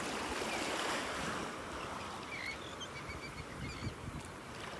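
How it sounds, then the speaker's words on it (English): Gulls call in short, scattered cries at a distance over steady breaking surf on a North Naples, Florida beach on a calm morning, with no voices present. "You hear the seagulls?"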